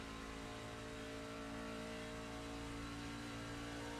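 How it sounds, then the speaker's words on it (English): A race truck engine on an oval track, heard from on board, runs as a steady, loud, continuous drone with no other sounds on top. "we're listening to Adam Lang shutting the car off, shutting the truck off here in the corners"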